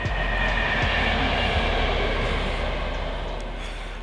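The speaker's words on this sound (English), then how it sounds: "And is that another train coming?" A train passes near an abandoned marina at night, a loud continuous rumble and rail roar that holds steady and slowly eases toward the end, with no talk.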